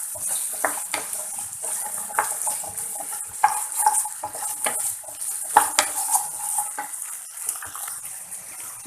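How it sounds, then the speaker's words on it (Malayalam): Small onions sauté in oil over a medium flame with a light sizzle. Frequent spoon scrapes and clinks against the pot run throughout, at close range. "എന്നിട്ട് ഈ ഉള്ളി ഒരു മീഡിയം ഫ്ലെയിമിലിട്ട് നമുക്ക് നന്നായിട്ടൊന്ന് വഴറ്റിയെടുക്കാം"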